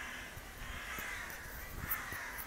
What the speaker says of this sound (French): Prêter attention à tous ces corbeaux, je ne sais pas si tu les entends.